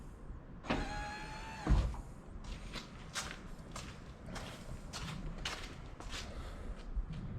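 Electric power running boards on an old-body-style Ford truck moving, a steady whirring motor run at the start followed by a clunk, then faint rustling and scattered clicks nearby with no talking.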